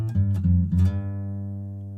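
An acoustic guitar picks the five-note opening phrase of a song, clear, close plucked notes with the last one left ringing and slowly fading.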